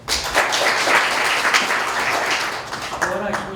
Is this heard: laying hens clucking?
no